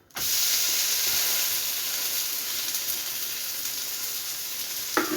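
A dosa hisses loudly on a hot pan after being flipped, a steady close sizzle that carries on for several seconds with no voices, and a faint scrape near the end.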